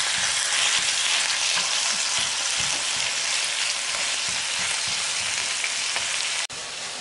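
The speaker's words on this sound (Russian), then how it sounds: "Я выпариваю влагу из грибочков, чтобы их обжарить немного. А в эту сковороду опускаем фарш." Mushrooms cooking off their moisture and ground meat frying in pans, a steady, dense sizzle with occasional soft stirring ticks, close up and continuous until a brief dip near the end, with no voices.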